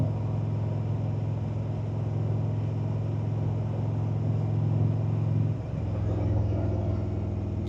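Indian motorcycle engine fitted with a Rush Racing slip-on exhaust, a Springfield or Roadmaster, rumbling steadily at cruise, then a brief dip near the end as it downshifts into fourth and settles back into a deep, even drone.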